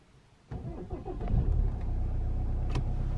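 A new car's engine is started with the key while the brake is held, a short cranking whir that catches and settles into a steady close idle hum.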